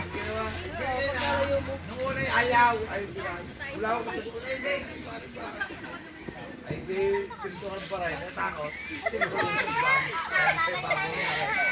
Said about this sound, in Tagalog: Ayun po yung mga bata naliligo.